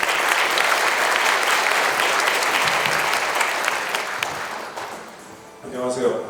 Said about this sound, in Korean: 교수님을 큰 박수로 맞아주시면 대단히 감사하겠습니다